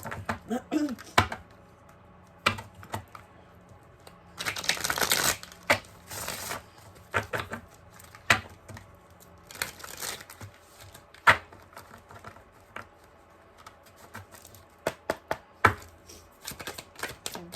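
Oracle cards shuffled for a card reading, irregular soft riffling and tapping bursts with one longer shuffle, under intermittent talking.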